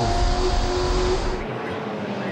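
V8 muscle cars racing at Eastern Creek, a loud engine roar close by that drops away sharply partway through as the cars pass, with a commentator talking over it.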